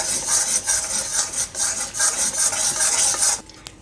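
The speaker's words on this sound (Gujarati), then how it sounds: "તો ધીમા ગેસે એને થોડીક વાર શેકી લેવું." Semolina and gram flour roasting in a pan on low heat: rhythmic scraping and stirring strokes of a utensil against the pan, fairly close, repeating about twice a second before stopping abruptly.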